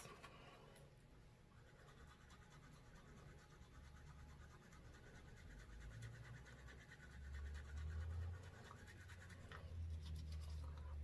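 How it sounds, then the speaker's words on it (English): A toothbrush scrubs teeth coated with turmeric in a continuous soft, rapid bristle scratching close to the mouth, growing slightly louder partway through, with no talking. "brush like you're, brushing your regular teeth, just the same way you do."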